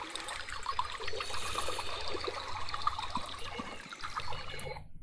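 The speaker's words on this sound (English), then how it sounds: "Let's have some running water from the creek." A creek's running water in the Medieval Dynasty video game: a steady, close trickling and splashing that stays even throughout, with no talk over it.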